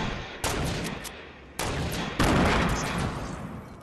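Gunfire in the video game Fortnite: three loud bursts of rapid shots, each cutting in sharply and then fading into a ringing tail, close and with no voices over them.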